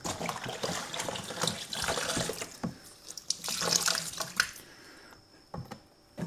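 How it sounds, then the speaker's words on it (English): Hot water dumped into a sink and swished around the sides in a rinse, irregular splashing and pouring close by, tapering into quieter drips. "with the other half of our hot water. Just dump that in and give everything a good rinse."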